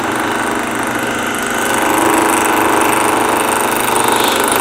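A wood lathe spins steadily while a turning tool cuts into the workpiece, a continuous close, loud whirring drone that holds even and swells slightly partway through, with no speech.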